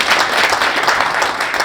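A crowd breaks into steady, dense applause, many hands clapping together at full volume with no talking over it.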